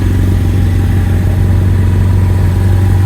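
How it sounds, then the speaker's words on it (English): A BMW F800 GS Adventure motorcycle fitted with a Leovince exhaust idles close up, giving a loud, steady, even low throb that never changes over a few seconds. "hopefully you can hear how quiet the engine is and how mechanically sound it is"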